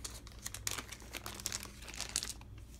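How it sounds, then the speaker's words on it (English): Plastic bags holding board game scoring tokens and pieces are opened with steady crinkling and crumpling, a run of sharp rustles and small tearing bursts close by, with no talking. "Okay, the game's got some extra plastic bags here."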